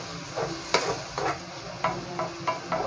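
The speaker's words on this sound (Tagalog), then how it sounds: "Haluin lang natin." Okra and chicken frying in a pan while being stirred, with a soft steady sizzle and a handful of scraping utensil strokes against the pan, close and fairly quiet, with no talking.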